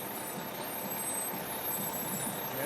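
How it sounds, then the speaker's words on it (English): Decorated fire trucks roll by in a Saint Patrick's Day parade, a steady, fairly faint engine rumble with a hiss of crowd and street noise and no clear talking. "The many different decorated fire trucks."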